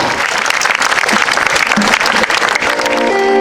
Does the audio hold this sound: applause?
yes